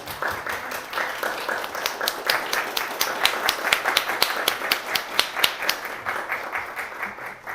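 A room full of people, including volunteers, donors and supporters at a film and displacement event, gives a sustained round of applause, dense clapping that stays steady and fairly loud throughout with sharp individual claps standing out.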